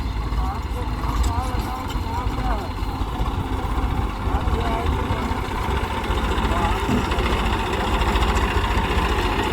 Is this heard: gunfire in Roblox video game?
no